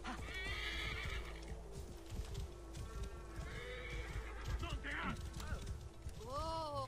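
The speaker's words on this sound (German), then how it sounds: "was ist das für ein Pferd überhaupt?" A horse whinnies loudly in the video game Assassin's Creed Origins over a busy background of hoofbeats and clatter, followed by a second rising neigh near the end.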